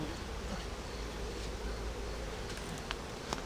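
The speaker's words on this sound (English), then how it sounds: "All the bees, all the bees are coming out of the left." A dense, continuous buzz of many bees swarming out of a wild beehive cut open with a chainsaw, close and steady with occasional individual bees zipping past.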